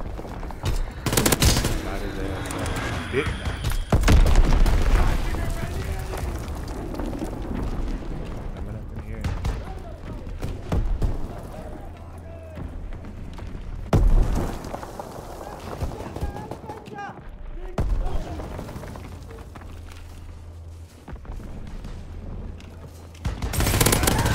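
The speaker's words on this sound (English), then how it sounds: "Enemy bomb incoming. Get to cover." Call of Duty WWII match: bursts of gunfire and heavy explosions in a chaotic battlefield mix, loud and close, with a player's voice and in-game speech talking over much of it.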